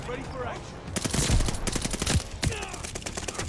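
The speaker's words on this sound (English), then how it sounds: "This Type 100 shreds, dude." Rapid bursts of Type 100 submachine gun fire in Call of Duty: Vanguard, a fast rattling volley that cuts in and out over the game's background noise.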